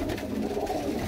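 Pigeons at a loft in Faisalabad coo in a low, continuous murmur, close and steady over a brief moment.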